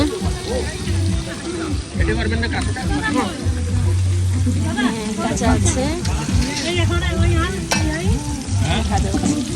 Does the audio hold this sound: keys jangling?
no